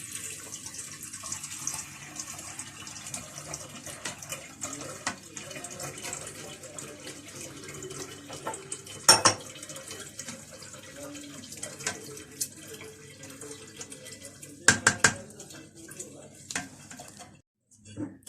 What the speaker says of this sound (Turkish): Evet biraz daha su ekliyoruz.